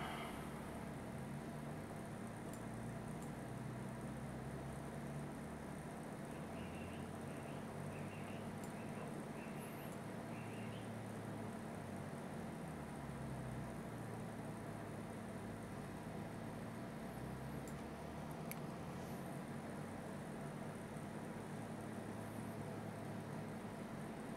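Beechcraft Bonanza G36 piston engine held at 2000 rpm in Microsoft Flight Simulator, a quiet, steady low drone with a constant hum that continues unchanged for the whole stretch.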